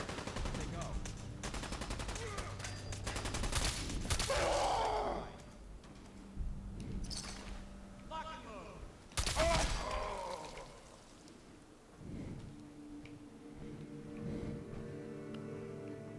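Gunfire in Fallout 4 Survival mode: several sharp shots in two bursts, with grunts and breathing between them over a low game soundscape.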